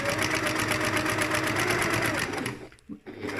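A sewing machine stitches a lined messenger bag in a fast, even mechanical rattle for about two and a half seconds, then stops abruptly, leaving a few quiet handling sounds.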